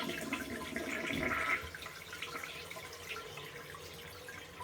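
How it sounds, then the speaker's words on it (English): A household toilet is flushed after its bowl and trap were cleared with a plumbing auger; a steady rush of draining water swells for a moment, then settles into a softer gurgling flow and refill. "Now I'll flush it again and see if there's a difference."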